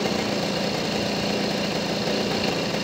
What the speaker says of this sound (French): on va rabaisser le régime moteur en dévissant la vis de ralenti